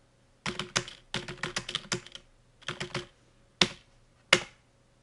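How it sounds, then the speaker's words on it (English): A sentence is typed on a computer keyboard at close range, with clusters of crisp key clicks in quick bursts and pauses between them, ending in two separate louder taps. "We'll type a sentence"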